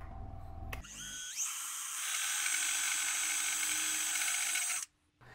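A band file belt sander running an 80 grit belt over a rubber contact wheel, grinding mild steel: a sharp whine spins up and holds as a loud, steady grinding screech for about four seconds, then cuts off.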